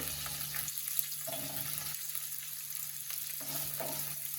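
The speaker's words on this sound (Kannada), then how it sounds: "ಫ್ರೈ ಮಾಡ್ಕೊಳ್ತಾ ಇದನ್ನು ಸೈಡಿಗೆ ಇಟ್ಟು" Food frying in a pan in a home kitchen, a steady broadband sizzle running unbroken throughout with faint stirring clatter and occasional watery splashes, no voices.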